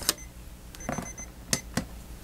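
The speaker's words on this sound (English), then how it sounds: "Oh, there's our timer." A kitchen-style timer alarm goes off during a paper crafting session, giving several short, sharp beeps in an uneven pattern, loud and close with no talking.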